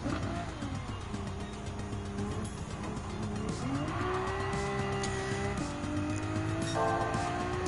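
GT500-style race car in Gran Turismo 7, its engine droning steadily and shifting pitch through gears, with tire squeal throughout and no talk.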